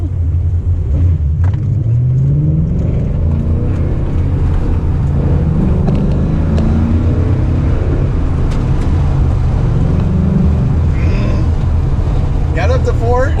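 A Ford Mustang Bullitt GT with manual transmission pulls away in first gear from a roll, its engine rumbling low and loud from inside the cabin as revs rise gradually, with voices talking over it.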